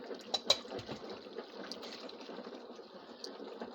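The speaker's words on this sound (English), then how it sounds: "these are my lids. I'm putting boiling hot water in it." Boiling hot water pouring over canning lids in a container, a soft continuous gush and splash of liquid, fairly quiet and close, with a couple of small clinks near the start.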